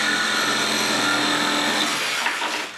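Reciprocating saw with a standard Sawzall blade cutting fast through wood, a loud, continuous close-up buzz that winds down at the end.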